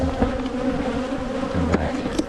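Honey bees buzz close around a beekeeper during a hive inspection at an apiary, a dense steady drone with individual bees zipping past the ear.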